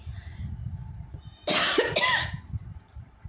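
A person with a sore throat and chest pain coughs twice in quick succession, loud and close, against a quiet room background.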